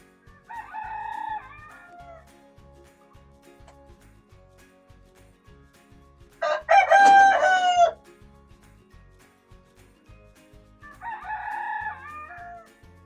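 A rooster crows loudly once on a farm, with softer clucking and calling from chickens just before and after.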